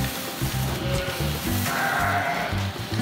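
Sheep bleat repeatedly in a pen holding about 120 ewes during the ram mating season, overlapping low, throaty calls from several animals close by, with barn rustling underneath.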